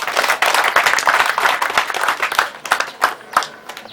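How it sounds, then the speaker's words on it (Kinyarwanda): Wedding guests applauding at a ceremony, a loud sustained round of clapping from many hands that thins out into scattered claps at the end. "Niyo mpamvu umuryango wongera bahuze ibiganza baguha amashyi akwira icyo kintu."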